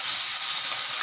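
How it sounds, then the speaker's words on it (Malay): Beef frying in a pan for rendang, a steady close sizzle with a dense, even hiss and no pauses or talk. "Rendang daging sapi digoreng."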